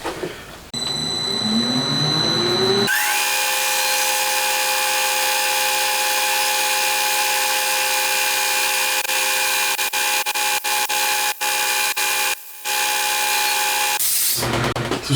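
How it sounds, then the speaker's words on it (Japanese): A small lathe drills a 3.4 mm hole into a valve guide for a twin-cam 16-valve four-cylinder engine, a steady loud tonal whir with harmonics and brief clicks, winding down near the end. "次穴開けですね"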